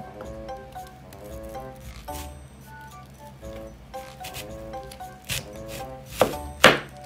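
Kitchen knife slicing through an onion, a Bavarian Edge blade tested against a regular one, giving repeated crisp chopping cuts with a couple of louder, sharper strokes near the end, close and alone.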